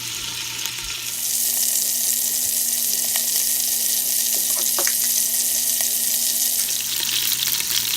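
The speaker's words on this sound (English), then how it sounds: "while those are going to finish up browning" Chicken legs browning in a pressure cooker give off a steady, loud sizzle and crackle that swells after the first second and then holds evenly to the end, with a few brief clicks on top.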